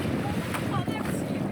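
Steady wind rushing past an engineless canoe sailing on the open sea, a continuous broad whoosh with water movement beneath, fairly loud and unbroken throughout.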